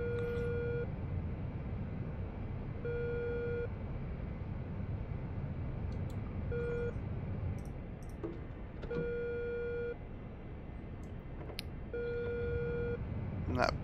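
Radar warning beeps in the cockpit of the AJS-37 Viggen in DCS World while taxiing, a steady tone sounding in repeated pulses of about a second, spaced a few seconds apart over a constant low engine drone.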